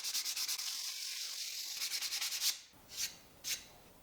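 Old wood is rubbed with 220 grit sandpaper in quick, rhythmic back-and-forth strokes that give a steady gritty rasp, close up, then slow to a few separate longer passes.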